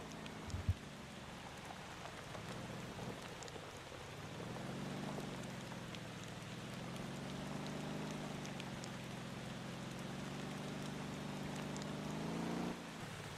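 Steady rain in the driving game Motor Town, a dense even hiss of drops falling on the vehicle and road, with a low engine hum running underneath throughout.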